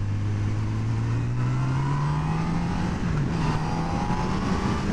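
A 2018 Honda CB1000R motorcycle with a 145 hp engine accelerates hard, its rising engine note climbing steadily through the revs, loud and close, over a rush of wind noise.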